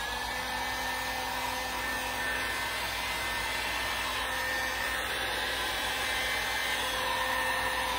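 A warm-air dryer blows steadily at close range to dry freshly painted stripes on a jewelry armoire, a continuous even whirring hiss that holds constant throughout with no talking.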